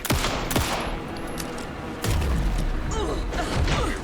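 Gunfire in the video game Alan Wake 2: rapid, dense bursts of shots and impacts fill the clip, loud and continuous, with thuds and a low rumble underneath.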